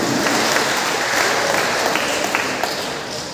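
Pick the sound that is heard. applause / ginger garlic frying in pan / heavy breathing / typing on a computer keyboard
applause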